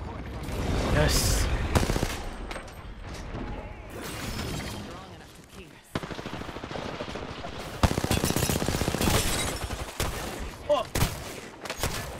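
Rapid bursts of automatic gunfire from a wall turret in a first-person shooter video game, loud and close, with sustained fusillades broken by short pauses and a voice talking over parts of it.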